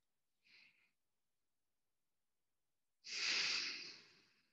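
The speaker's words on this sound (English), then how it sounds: "Take an adjusting breath." Two breaths during a hatha yoga class: a short soft inhale, then after a silent pause a longer, stronger breath out that fades away, close and alone.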